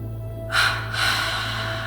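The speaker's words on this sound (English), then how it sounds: "Breathe in twice and breathe out twice." Two soft, breathy airflow sounds during a guided meditation breathing exercise, a short breath then a longer one over steady low background hum, close and fairly quiet with no talk.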